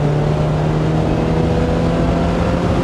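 A Lotus Elise 240 Final Edition's small engine drones steadily on a race track, a continuous loud hum with a strong low tone and no pauses, and no voices over it.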